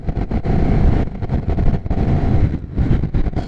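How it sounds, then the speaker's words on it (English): Motorcycle engine on the North Cascades Highway lugging under throttle below 4,000 rpm, a loud, close, uneven rumble with choppy pulsing bursts that suggest knocking or possible detonation. "The bike makes this kind of knocking noise if I give it throttle below 4 grand"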